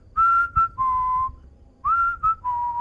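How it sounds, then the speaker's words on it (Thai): A person whistles just outside a bathroom in the horror video game Fears to Fathom: Ironbark Lookout, a clear, wavering melodic whistle in several short phrases with pauses, alone over a low background rumble. "มันมีคนผิวปากอยู่มันไม่ใช่เสียงลมโว้ยมันเป็นเสียงคนผิวปาก"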